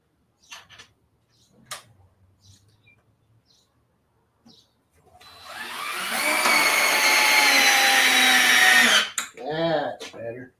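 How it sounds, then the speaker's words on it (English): A power drill drives screws into a wooden garden bench outdoors, a loud sustained whirring burst lasting several seconds after a few scattered clicks and knocks, with birds chirping faintly and a voice briefly at the end. "I'm going to try to bring these in with a drill instead of an impact."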